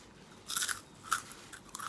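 Raw yardlong beans crunch between the teeth in three distinct crisp bursts spaced roughly half a second apart, close and fairly quiet, with no talking.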